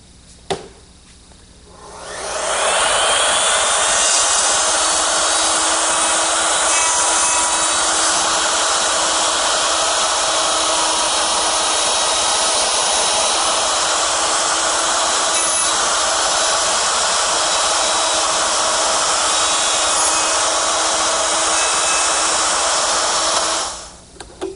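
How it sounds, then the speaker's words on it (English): A wood router fitted with a collar and dovetailing bit cuts dovetails in drawer side pieces on a dovetail fixture, a loud, steady high whine starting after about two seconds, holding constant, then cutting off near the end. "it works with my router, which is set up with a collar and a dovetailing bit. The collar follows the fingers cutting the dovetails."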